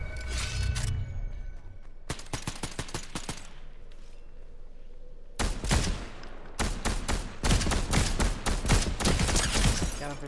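Rapid automatic gunfire bursts in the video game Fortnite, with several dense volleys separated by short pauses, loud and close.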